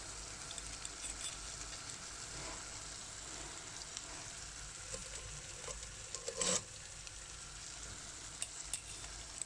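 Brick pastry sheets fry in a pan of hot oil, giving a steady, close crackling sizzle with a few sharper pops and spatters and no talking.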